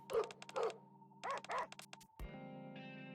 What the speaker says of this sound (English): Dogs bark and yip amongst one another, holding constant canine communication.